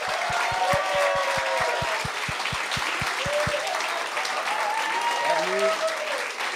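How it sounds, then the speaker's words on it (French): A live comedy audience at a podcast taping applauds steadily to welcome Jason Babin and JC Surette. Regular low thumps, like stomping, run under the clapping for the first half, with voices faintly audible. "Mesdames et messieurs, donnez-leur une bonne main d'applaudissement."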